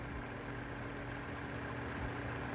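The engine of a Renault Duster runs at a steady idle. It is a faint, even hum with a low rumble and no change in pitch, and no voices are heard.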